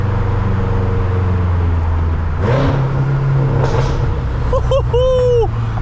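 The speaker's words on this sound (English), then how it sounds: "That's the downshift I was looking for. God damn, that sounded good." Tuned 800 HP BMW M6 on New York City streets, heard from inside the cabin: a loud, close engine drone rises in pitch through a downshift blip, with a brief tonal squeal near the end.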